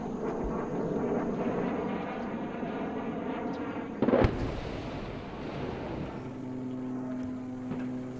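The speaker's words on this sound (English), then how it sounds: "Over 4 days in Marawi, we watched airstrike after airstrike." Airstrike explosions in Marawi, with a sharp blast rising out of a steady distant engine drone of aircraft overhead and a low rumble trailing after it.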